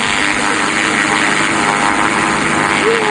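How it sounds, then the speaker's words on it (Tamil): A loud airplane engine in a bike driving video game, a steady close propeller drone that holds evenly from start to finish. "என்னோட ஏரோப்ளேன் இது."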